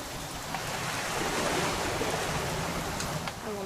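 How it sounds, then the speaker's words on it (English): Rain in What Remains of Edith Finch, heard as a broad, rushing wash of water that swells gently in the middle, with a few faint ticks near the end. "It's gonna rain the whole weekend, isn't it?"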